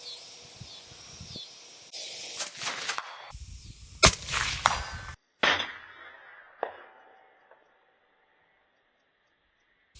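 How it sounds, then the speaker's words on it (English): A rifle fired at a target 150 meters away outdoors, with a few sharp loud reports and clatter among handling noises, then fading into quiet. "Target acquired. Firing."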